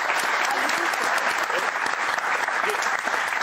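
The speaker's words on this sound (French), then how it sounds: "Nous, on va vous applaudir, Isabelle." Sustained applause from a studio audience on a French talk show, steady and dense throughout with no pauses.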